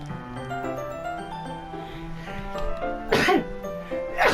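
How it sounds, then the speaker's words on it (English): A sneeze in the video game Doki Doki Literature Club: soft background music plays, then two sharp, breathy sneeze bursts sound close and clear near the end. "Oh no, I feel a sneeze."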